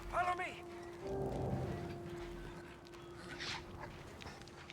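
Dog whimpering and panting in the Mad Max video game, a short high whine near the start followed by breathy sounds over a low steady hum and rumble.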